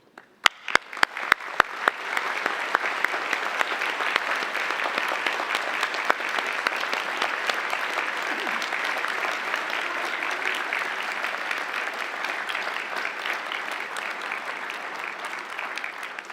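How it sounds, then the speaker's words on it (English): A graduation crowd gives a standing ovation: a few sharp claps open, then loud, dense, sustained applause from a large audience continues steadily for the whole stretch, fading only slightly at the end. "give your parents, your families, and your friends a standing ovation"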